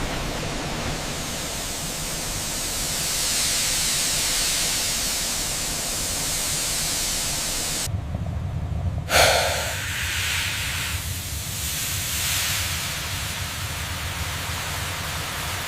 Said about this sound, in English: Excess steam pressure is drawn out to maintain precise cooking environment.